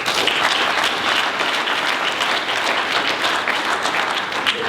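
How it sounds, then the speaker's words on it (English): Loud, sustained audience applause at a business event, a thick, even roar of many people clapping close by with no pauses for nearly five seconds. "I want to applaud everyone in here"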